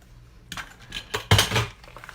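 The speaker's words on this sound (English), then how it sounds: "Whoops, I knocked my brayer over." A brayer gets knocked over on a craft table, clattering in a quick series of hard knocks and taps that ends in one loud rattling impact, close by and with no talking.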